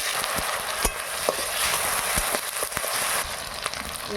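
Onion paste goes into hot oil that already holds whole spices such as cardamom, cinnamon and cloves for mutton kosha, setting off a dense, loud, rain-like sizzle with scattered sharp pops and a few stirring knocks, close and without speech.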